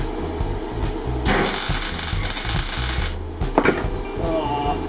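Tack welding on a steel plate mount during a BMW engine swap gives a harsh, crackling buzz lasting about two seconds, with a brief second spurt, over a steady low background hum.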